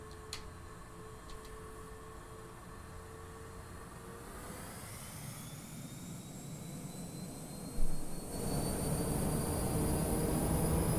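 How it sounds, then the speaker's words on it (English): Twin jet engines of a Learjet 35 in a flight simulator game drone steadily, with a rising whine and a brief thump partway through before the roar swells louder. "They have modeled these engine sounds really nice."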